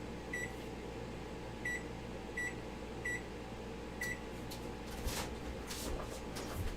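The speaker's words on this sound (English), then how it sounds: "Now, I am also going to turn my oven on" A kitchen oven being switched on, giving five short, evenly spaced electronic beeps over a low steady hum, followed by a few soft clicks and clatters.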